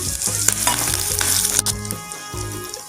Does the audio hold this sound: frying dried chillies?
yes